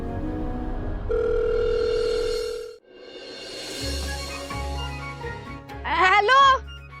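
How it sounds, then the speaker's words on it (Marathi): A telephone in a TV drama scene gives a steady dial tone for a couple of seconds as a call fails to connect, then voices and background music take over. "मी सारखा ट्राय करतोय फोन."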